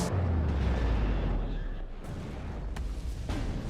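Artillery fire in the Warno strategy game on an airport map, heavy low booming impacts rumbling together with a couple of sharper cracks, under talk.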